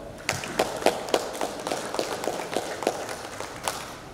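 An audience at an umrah pilgrimage briefing in Indonesia breaks into applause, a run of uneven, fairly close claps repeating for several seconds in a loose rhythm.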